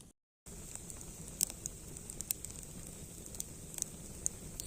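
A campfire burns steadily with a low roar, and scattered sharp crackles and pops rise over it, heard fairly close after a short silence at the start.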